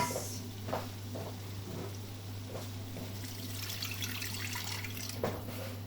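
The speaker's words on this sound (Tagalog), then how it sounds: "At maglalagay ako ng tubig guys." Water runs and trickles steadily into a cooking pot for noodle soup over a constant low hum, with a few soft clinks and taps.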